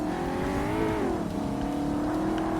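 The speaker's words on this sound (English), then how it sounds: "Rev limiter." Shelby Cobra in Forza Motorsport on Xbox (2005), engine held at high revs against the rev limiter, a steady buzzing drone with slight wavering pitch, continuous and alone.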